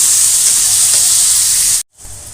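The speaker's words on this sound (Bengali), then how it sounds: "একটু ভেজে নেবো পেঁয়াজটা।" Chopped onion frying in oil after a tempering of whole cumin, a loud, close, continuous sizzle as it is stirred, cutting off abruptly near the end.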